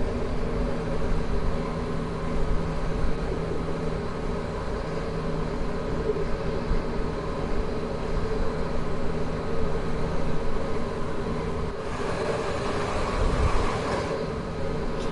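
A Class 66 diesel freight locomotive rolls by in Train Sim World 2, a steady loud rumble and rail drone lasting throughout, with a brighter rushing swell near the end.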